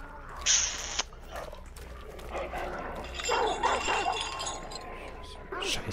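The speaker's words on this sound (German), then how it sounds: "Oh, Hund." Dog barking in the hunting shooter game Hunt: Showdown, a few short barks mid-distance amid ambient game noise and clinks, with someone talking over parts of it.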